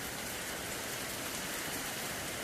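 Steady rain pours down on farm crops in a field, a dense, continuous hiss of drops striking leaves and ground with no voices, constant and close throughout.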